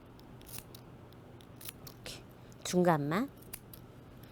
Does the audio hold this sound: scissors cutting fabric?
yes